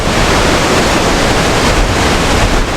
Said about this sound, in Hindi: देखिए देखिए देखिए झरना देखिए आप, व्हाट अ ब्यूटी।